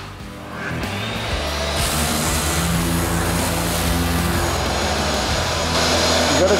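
A workshop vacuum switched on with its hose not connected, used during Camaro bodywork prep, starting up and settling into a loud, steady roaring whine that fills the whole stretch.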